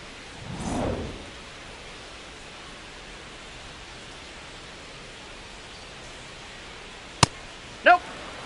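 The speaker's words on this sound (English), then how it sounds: "This rain is not letting up." Steady rain falls during a baseball game in MLB The Show 26, heard as a soft, constant hiss. It swells briefly at the start, and two sharp clicks stand out near the end.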